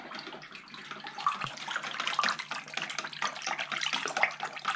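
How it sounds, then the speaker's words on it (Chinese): Water poured into a container and stirred together with leaves while making a leaf jelly, a steady close splashing and trickling wash that runs without a break. "现在我把水加里面了，"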